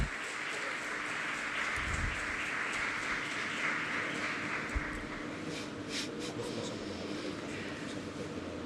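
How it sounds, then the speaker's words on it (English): An audience applauds students at a design and complexity event, a steady wash of clapping running the full length at moderate level, with faint voices mixed in underneath. "a big applause"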